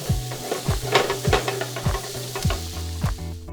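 Onions and carrots sauté in a hot pan for a chicken stew, giving a steady loud sizzle with repeated stirring scrapes about every half second.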